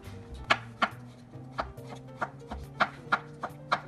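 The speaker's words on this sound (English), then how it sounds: "So we just cut these in half." A knife halving mushrooms on a cutting board, about a dozen sharp, evenly spaced chops at a quick steady rhythm, close and clear with nobody talking.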